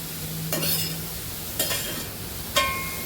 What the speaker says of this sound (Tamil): இப்போ இது வதங்கிட்டுருக்கும்